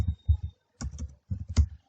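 Short bursts of keystrokes on a computer keyboard as a folder name is typed, three quick clusters of close, crisp clicks separated by brief pauses.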